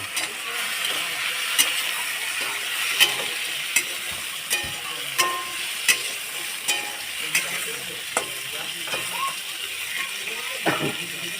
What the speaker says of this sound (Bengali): এই আলু দিলাম এই আলুটা হালকা নেড়ে ছেড়ে দিলাম